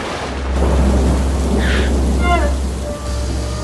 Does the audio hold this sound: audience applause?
no